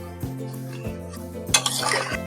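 Chicken and potato curry being stirred in a pot, a ladle scraping and knocking against the metal a few times at regular intervals, close by, with a faint background hum.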